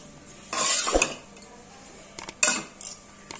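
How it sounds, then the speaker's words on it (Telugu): A spoon stirs tempering into uggani, a puffed-rice dish, in a metal pan, with a few scraping strokes and sharp clinks against the pan that are close and fairly loud, separated by quiet pauses. "ఇదంతా తాలింపు ఈ ఉగ్గానికి కలిసేటట్టు కలుపుకోవాలి"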